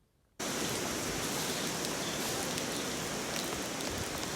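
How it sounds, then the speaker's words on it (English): Heavy rain pours steadily inside a store through a leak, starting abruptly after a brief quiet moment and continuing as a dense, loud, even hiss of falling water. "It's raining inside the store."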